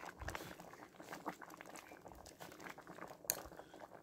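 Ash doogh, a yogurt soup with noodles, simmering in a pot in a village home, giving a faint, continuous bubbling and popping with soft irregular blips close by.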